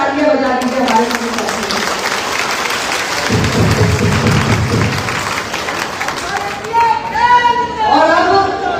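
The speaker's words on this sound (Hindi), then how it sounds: "एकदम जोरदार तालियां बजा दीजिए हमारे साथी।" Crowd applause at a party workers' gathering in Bahraich, a broad wash of clapping that swells midway under continuous speech and chatter from a public address voice.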